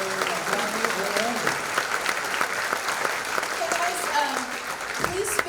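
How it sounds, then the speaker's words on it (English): Loud sustained applause from a crowd at a neighborhood summit opening presentation, dense clapping throughout with a few cheers rising over it. "Can we have one more round of applause for this amazing partnership?"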